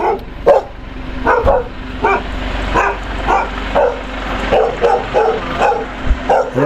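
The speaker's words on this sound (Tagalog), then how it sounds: "Ang daming aso oh." Several dogs bark repeatedly at Abaracao Sur, Naguilian, La Union, with loud, fairly close overlapping barks and yips coming in irregular bursts over a low background hum.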